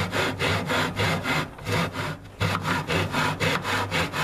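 Rhythmic back-and-forth strokes of a handsaw cutting through wood, close and loud, about two strokes per second with a short pause midway.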